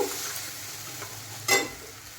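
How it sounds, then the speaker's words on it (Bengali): Masala paste for a prawn and whole pointed gourd curry frying in a pan, a low steady sizzle with a sharper burst of scraping as it is stirred, close and alone. "এখন আমি দিয়ে দিচ্ছি মশলা পেস্ট, দিয়ে এখন নেড়ে চেড়ে ভালো করে একটু কষিয়ে নেব"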